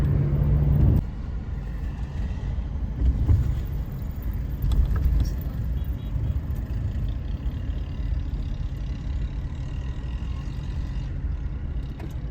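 A car drives along a road in Bahria Town, its steady low engine and tyre rumble heard from inside the cabin, continuous and fairly loud with no talk.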